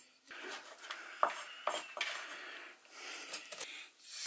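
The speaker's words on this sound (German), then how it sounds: "ich schneide hier nur Mohrrüben" A kitchen knife chops carrots on a board with irregular, close, crisp knocks and scraping taps, fairly quiet, with no talking.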